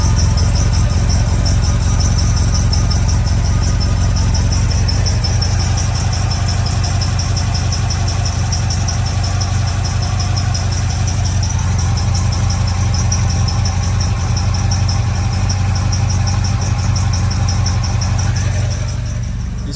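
A restored 1967 Volvo Amazon wagon engine idles after a cold start, a loud, steady, close rumble with an even mechanical beat holding for about twenty seconds before easing off at the end.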